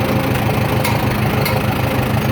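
A rebuilt 1947 Farmall M tractor engine runs just above idle in fourth gear, a steady, loud, rumbling chug that continues evenly throughout.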